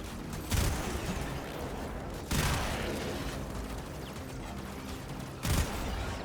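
Rapid gunfire from a shooter video game, loud and continuous, with sharper bursts punctuating a dense stream of shots and no talk over it.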